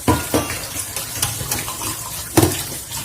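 Water runs from a kitchen tap into the sink while dishes are washed, a continuous splashing hiss broken by a few louder clatters and splashes, close by and with no voices.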